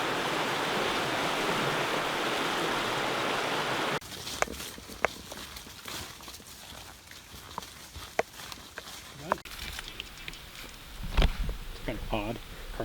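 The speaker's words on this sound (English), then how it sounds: "And the Potato River." The Potato River rushes as a steady broadband wash for about four seconds, then drops away, leaving quiet outdoor sounds with scattered footsteps and clicks along a backpacking trail.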